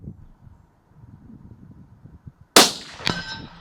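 A Ruger American 18-inch rifle fires at a steel target 500 yards out: one sharp, loud crack, then a faint metallic ring from the distant plate about half a second later, following quiet breathing and rustling.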